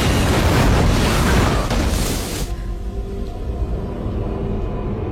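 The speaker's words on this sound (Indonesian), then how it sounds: "dia tidak bisa menahannya dan meledakkan toilet tersebut yang menyebabkan guru wanita itu terkejut" A loud toilet explosion in the film Firestarter: a broad, roaring blast fills the first two and a half seconds, then cuts to a lower, rumbling tail that lingers quietly afterward.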